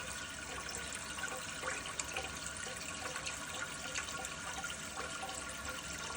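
A constantly running toilet's tank refills through its overflow tube, giving a steady, even hiss and rush of water that lasts throughout, close and without talk.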